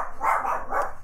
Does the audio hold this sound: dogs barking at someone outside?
yes